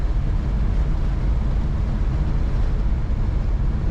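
A 1940 Ford Deluxe 5-window coupe street rod cruising along, its engine and road rumble forming a steady, low, continuous drone from start to finish with no voices.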